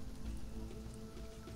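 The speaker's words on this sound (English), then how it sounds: "It's raining on the surface, so we're going to get re-upped a little bit straight away." Steady rain patters on the surface in the survival game Sheltered, a soft continuous hiss with no voices over it.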